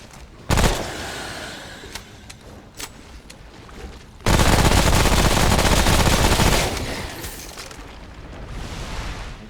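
Gunfire from enemy-shooting combat in Remnant: From the Ashes, loud bursts of automatic fire with an opening crack, scattered single shots, then a long sustained roaring volley that tapers off.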